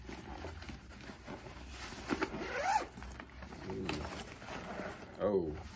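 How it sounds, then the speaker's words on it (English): A zipper with no zipper stop slides along a Babolat tennis bag in a few close rasping pulls, while people talk softly in the background. "This zipper does not stop. It's got no zipper stop."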